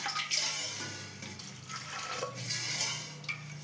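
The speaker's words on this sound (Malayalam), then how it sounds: "അതിലേക്ക് ആവശ്യത്തിനുള്ള വെള്ളം ഒഴിക്കുക" Water splashes and gurgles steadily into a cooking pot of soaked chickpeas, with a faint clink of metal and a soft hiss throughout, close by.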